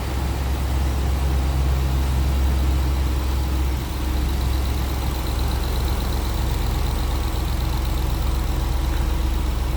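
A 2021 Ram 2500 Tradesman 4x4 pickup with a 6.4-liter Hemi V8 idles close by, holding a steady, deep low rumble with an even mechanical hum and no talk.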